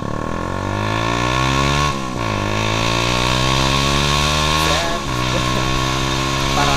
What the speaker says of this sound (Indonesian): Knalpotnya enak buat geber-geber.